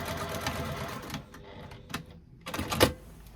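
A sewing machine stitches around the edge of a fabric bag in short bursts of rapid mechanical whirring, broken by pauses and starting again, close and clear.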